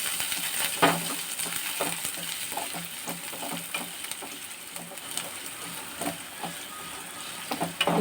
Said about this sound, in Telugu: వెల్లుల్లి వేగిన తర్వాత ఉల్లిపాయ ముక్కలు వేసుకోవాలి.